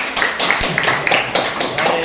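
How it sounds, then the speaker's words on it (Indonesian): A classroom group claps in a quick, rhythmic pattern of evenly spaced bursts, close and fairly loud, with voices mixed in. "Oke, tepuk tangan."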